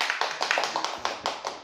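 A small group claps in a podcast studio, a quick run of sharp, close hand claps in an uneven rhythm lasting under two seconds.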